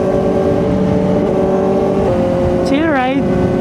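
A Kawasaki ZX-4RR motorcycle runs at night on a highway near the San Fernando exit, with a steady, loud engine drone and wind rush throughout and a brief rising rev near the end.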